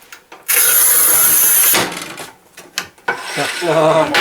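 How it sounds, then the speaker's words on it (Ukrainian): A Raimondi P-REX manual tile cutter scoring tile gives a loud, harsh rasping scrape lasting over a second, then a brief pause, a sharp snap and further scraping and handling noises. "Зараз ми розріжемо плитку."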